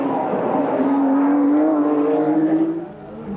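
Touring race car at Bathurst in 1991 on a lap of the circuit, its engine a loud, sustained droning roar that holds steady, rises slightly in pitch, then eases off near the end as the car comes through a left-hand corner.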